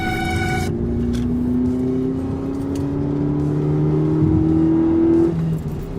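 A 2006 Mazda 3 SP23 on its first drive after a polyurethane suspension bushing upgrade and alignment, heard from inside as a steady engine hum that rises smoothly in pitch as it accelerates, then eases off near the end.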